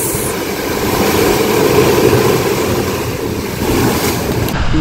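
Rough sea waves off an island, whipped up by the northeast monsoon wind, roar as a dense, steady wash of surf and wind noise, loud and continuous with no voices.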